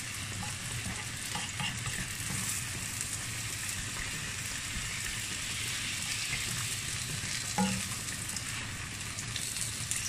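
Garlic and shallots fry steadily in a pan for a Thai stir-fry of duck tongues with pickled mustard greens, giving a continuous close sizzle with occasional stirring scrapes and no voices.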